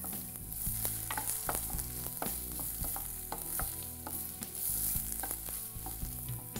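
Steady sizzling of chopped onions frying in a pan with frequent stirring clicks and scrapes, continuous and close, no voices.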